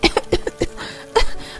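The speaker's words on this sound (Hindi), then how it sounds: "को जोर जोर से खांसी आने लगती है।" A woman coughs loudly in a home kitchen, a quick run of five or six sharp, close coughs followed by a short pause and one more forceful cough.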